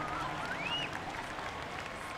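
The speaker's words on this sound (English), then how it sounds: "The crowd erupts and stomping their feet for this amazing battle" Crowd at a Formula Drift battle at Evergreen Speedway roars with cheering, applause and foot stomping, a dense, steady wall of sound through the whole stretch with a brief whistle-like rise near the start.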